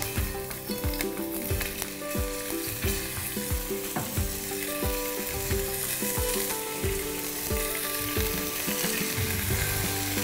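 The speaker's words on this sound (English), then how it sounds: "I'm starting off here with some good rapeseed oil, medium to hot pan here, and it goes. I'm going to go straight in with our pork." Pork pieces sizzling and frying in rapeseed oil in a medium-hot pan, a steady loud crackle throughout with repeated scraping stir strokes, close up and without talk.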